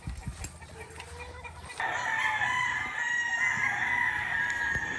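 A rooster crows loudly and at length at a gamecock farm in Tanay, with hens clucking and other farm noise around it and no talk.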